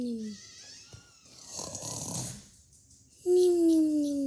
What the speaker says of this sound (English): that one friend that never stopped snoring